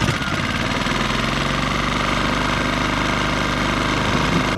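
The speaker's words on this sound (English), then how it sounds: "I'm going to see if we can start it in 1 to 2 pulls." Small gas engine, restarted while still hot without choke, running loudly and steadily throughout with a rattling, knocking idle and no voices.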